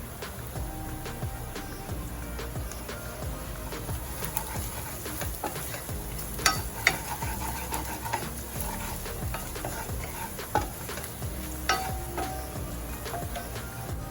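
Spices and yellow lentils for an Indian dhaba-style dal fry sizzling in a pan while being stirred, with continuous frying hiss and scattered clinks of the spoon against the pan, close and steady.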